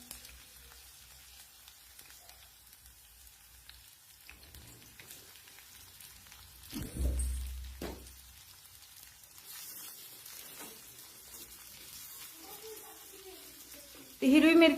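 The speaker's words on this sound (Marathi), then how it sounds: "आणि हे मिरच्या आणि लसूण छान तेलावर परतून घ्यायचे बघा" Green chilies and garlic sizzle as they sauté in hot oil, a soft steady crackle that runs throughout with a louder burst midway and another sharp flare at the end.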